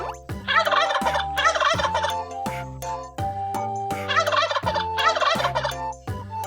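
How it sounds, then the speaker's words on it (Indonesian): Turkey gobbling in a kids' farm animal cartoon: two loud, rapid warbling gobble bursts over bouncy background music with steady chord tones, close and prominent, no voices. "ayam kalkun"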